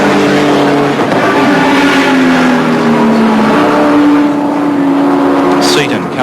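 Group A touring cars racing in the 1986 Australian Touring Car Championship round at Barbagallo, engines roaring loud and continuous with a shifting drone as a car passes close. A brief high squeal comes near the end.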